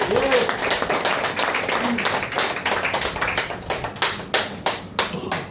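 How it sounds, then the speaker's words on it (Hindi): A room full of people claps together, a dense burst that gradually thins into fewer, sharper individual claps toward the end. "सबके लिए जोरदार ताली"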